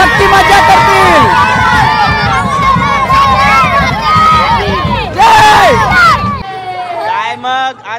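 A dense, loud crowd cheering and shouting in celebration at a village palkhi procession for the goddess Shanteshwari, many voices whooping and yelling at once, close by, before the roar drops to a few scattered calls and voices.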